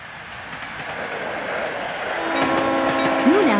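A cartoon train rolls along in a children's animated show, a loud rumbling run that swells with a rising horn-like whistle tone near the end.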